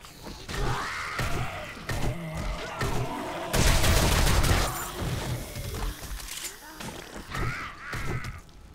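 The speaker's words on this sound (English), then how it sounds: "I love the coil sniper, it is so good." Coil sniper rifle fire in the 7 Days to Die Darkness Falls mod during a horde night, a loud sustained blast mid-clip amid game noise and creature growls, with a person talking.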